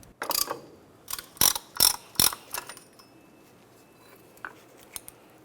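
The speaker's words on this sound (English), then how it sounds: "Now I'll put my caliper compression tool in here and push in both of these caliper pistons at the same time." A ratcheting caliper compression tool pushes in both front brake caliper pistons on a 1994-2002 Dodge Ram 2500, giving a handful of sharp metallic ratchet clicks in quick bursts, then a couple of faint taps.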